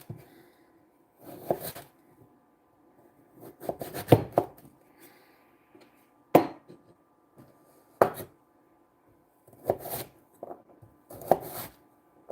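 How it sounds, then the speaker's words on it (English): A knife chops fall vegetables on a cutting board, sparse bursts of sharp, close taps separated by quiet pauses, some quick clusters and some single strikes. "I think we're just about done chopping now."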